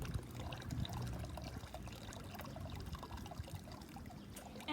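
Wet clay slurry from locally dug clay is stirred and poured through a screen, giving a steady close trickle and splash of liquid that runs continuously without a break.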